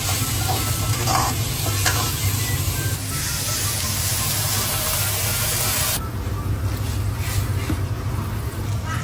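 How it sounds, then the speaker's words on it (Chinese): Food is stir-fried over high heat on a village stove, a loud roaring sizzle and spray with a low burner rumble, while a voice talks faintly underneath. "这样农村的话是大火去炒"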